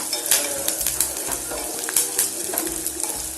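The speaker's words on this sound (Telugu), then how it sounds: "ఇప్పుడు ఇందులో కరివేపాకు వేస్తాం. ఇది కాస్త ఫ్రై చేస్తాం" Curry leaves crackle in hot oil in a pan for an ivy gourd fry, a dense continuous sizzle close up with brief scraping stirs and light metallic ticks throughout.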